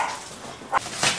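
A dog gives short whimpering yips, two brief bursts close by within a second, with a quiet background.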